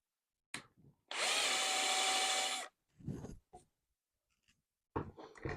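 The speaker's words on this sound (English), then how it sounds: "Got a small drill here, 2mm drill." A small 2mm drill whirs steadily for about a second and a half, high-pitched and close, drilling a pilot mark in a propeller blank, followed by brief scraping and tapping sounds.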